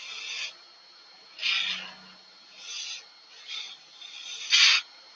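Parting tool cutting a spinning blank of wood and resin on a lathe, giving repeated short raspy scraping bursts at irregular intervals, fairly quiet and close, with no talk.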